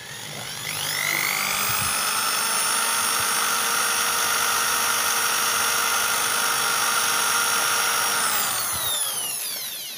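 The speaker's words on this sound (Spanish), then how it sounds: "lo que vamos a hacer ahora es, otra vez con el taladro, con el alfiler" A high-pitched electric drill runs steadily for about eight seconds as holes are bored into the neck of a BC Rich Warlock bass guitar, spinning up at the start and winding down at the end, loud and close with no talk.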